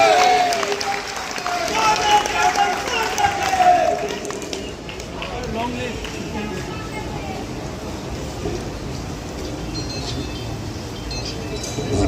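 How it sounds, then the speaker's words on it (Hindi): Audience applause at a BJP Udaipur 'One Nation Vaccination' public program in a hall, greeting a guest being called to the stage; a sustained, fairly even rush of clapping mixed with crowd noise, loudest in the first few seconds. "तालियों की गड़गड़ाहट के साथ आदरणीय सुनील जी को आमंत्रित करें"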